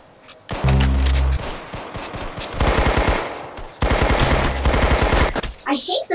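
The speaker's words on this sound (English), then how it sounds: "I hate the Tommy gun." A Tommy gun fires in the Roblox shooter Arsenal, loud rapid automatic bursts broken by short pauses, with other shots and game sounds mixed in and brief talk near the end.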